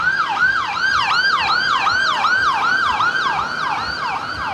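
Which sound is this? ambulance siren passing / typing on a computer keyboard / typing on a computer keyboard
ambulance siren passing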